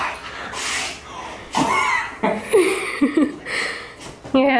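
A dog pants and lets out soft whines and whimpers close by, in short irregular bursts, while a person murmurs and breathes nearby.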